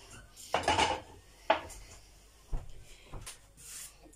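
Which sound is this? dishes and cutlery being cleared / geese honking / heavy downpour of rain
dishes and cutlery being cleared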